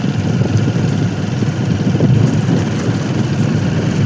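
Tractor engine runs with a steady, loud low rumble and chugging throb, continuous throughout without speech.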